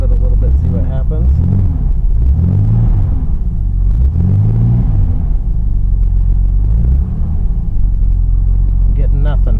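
A Jeep Cherokee XJ engine, fitted with an upgraded alternator, idles with a deep, close rumble and revs in several rising and falling swells, loud and throaty, then settles back to idle.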